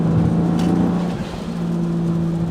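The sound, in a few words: BMW car accelerating hard during a tuning gear pull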